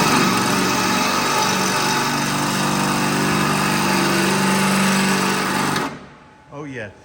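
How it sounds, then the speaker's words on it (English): A drill cuts partway through the top metal layer of a 1964 Ford Falcon quarter panel, a loud steady high-pitched whine lasting several seconds before cutting off abruptly, followed by a brief quieter sound. "they're just drilling partially through, so they're cutting through the top layer, not the bottom"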